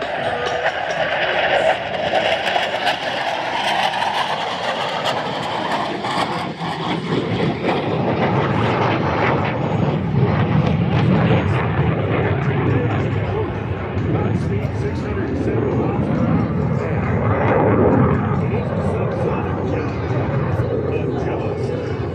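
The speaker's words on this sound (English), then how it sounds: "There goes the T-28 overhead" A T-28 propeller airplane drones overhead at an air show, its engine rumble swelling and sustaining loudly, with voices talking over it.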